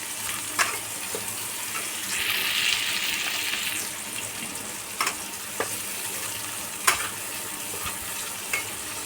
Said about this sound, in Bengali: হালকা ব্রাউনে ভেজে নেব।